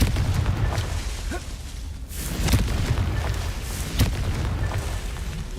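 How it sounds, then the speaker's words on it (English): Fiery Confringo spell blasts from Hogwarts Legacy go off in a dense game soundscape, with sharp bursts near two and four seconds over a constant low rumble. "Confringo!"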